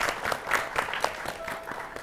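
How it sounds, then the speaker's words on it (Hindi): A studio audience claps steadily to welcome the judges at the Mahila Kisan Awards, a televised event. The applause is a dense, continuous patter of many hands at moderate loudness, with no speech over it. "जी तो जोरदार तालियों से स्वागत किया जाए डॉक्टर मालविका ददलानी जी का।"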